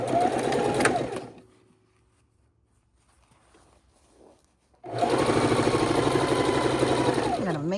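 Sewing machine stitching pinned quilt pieces for a king-size quilt, running in two loud steady bursts with a quiet pause between them, where faint handling sounds occur.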